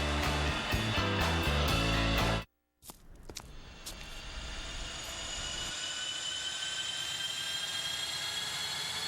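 A jet engine spools up in a Southwest Airlines commercial: after a brief musical opening and a sudden moment of silence, a loud, steady rising whine and roar builds and holds to the end with no voices.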